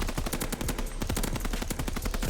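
Rapid automatic bursts of NZ-41 rifle fire in the Call of Duty: Vanguard shooter, sharp cracks in quick succession throughout, loud and close with only brief gaps.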